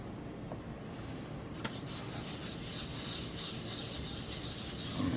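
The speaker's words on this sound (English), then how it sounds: "I'm just gonna put a little bit right on that repair, like that, and rub it in" Tru-Oil is rubbed by hand into a wood repair, producing a steady close-up scratchy rubbing texture that grows slightly louder and more continuous over several seconds, with no speech.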